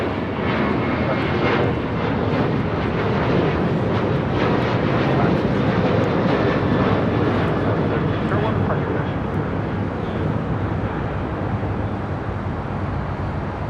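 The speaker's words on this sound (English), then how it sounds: "This is Alaska Airlines 1301 taking off to Seattle on a 737-900 ER." An Alaska Airlines Boeing 737-900ER takes off from LAX at night, its jet engines a loud, sustained roar that swells and holds, with a voice talking faintly underneath.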